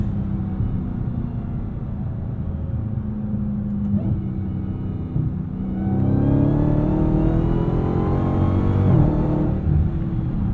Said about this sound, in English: stay right in the sweet spot of that supercharger whine, or just unleash hell.